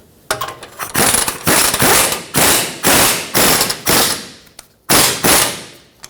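Ratchet wrench cranking a lower control arm rearward bushing bolt on a 2003-2012 Chevrolet Colorado, a loud close run of rapid clicking bursts in about eight strokes with brief pauses between them.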